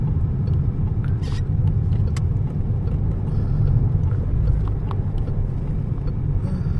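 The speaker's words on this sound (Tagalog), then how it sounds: "Traffic, daming kamyon po." Heavy road traffic with many trucks near the French border produces a steady low rumble of engines and tires, with a few faint higher clanks over a dense, continuous roar.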